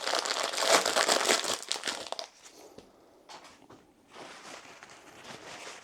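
Gauze crinkles and crumples loudly up close as it is handled for filtering a vinegaroon solution for dyeing leather. A dense burst of crackling comes first, then quieter, sparser rustles.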